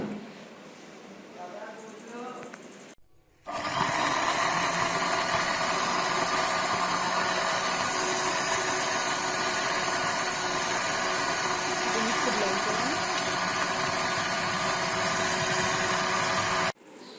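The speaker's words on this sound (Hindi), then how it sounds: "इन सब अज़ा को अच्छी तरह से ब्लेंड करेंगे।" An electric blender whirs loudly and steadily as it blends mango shake with milk, ice cream, sugar and almonds, starting with a jolt after quiet talk and running constant for about thirteen seconds before cutting off.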